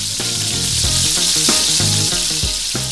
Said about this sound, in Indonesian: Otak-otaknya bakalan kita goreng dulu tuh, sampai ngembang kayak gitu.